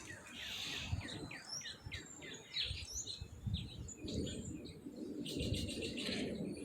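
Birds chirp and tweet in a backyard, with a dove or pigeon cooing among the rapid high calls, fairly close and continuous, while someone speaks intermittently over them.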